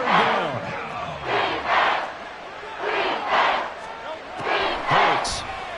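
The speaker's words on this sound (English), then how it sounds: "The Arrowhead crowd in full roar." Football crowd at Arrowhead Stadium during a Chiefs–Eagles game, a huge rolling roar that swells and falls in rhythmic waves of chanting, loud and massed, with some voices clear above the din.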